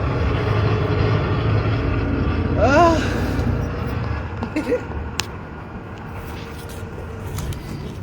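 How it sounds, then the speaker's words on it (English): Steady low rumble of a bus engine and road noise with wind through an open window, continuous throughout, with brief faint talk and a few small clicks partway through. "The window's open on the bus."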